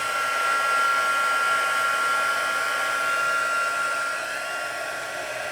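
A heat tool melting embossing powder for card making blows with a steady, loud, whirring roar close by, and no voices are heard.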